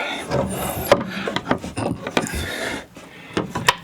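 A wooden board slides and rubs into place beneath a bathroom sink, making close scraping, knocking and rubbing sounds with irregular bumps over several seconds.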